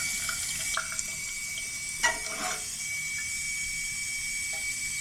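Steady hiss of water running into a toilet tank from a faulty, overfilling fill valve, continuous and close, with a brief louder gurgle partway through.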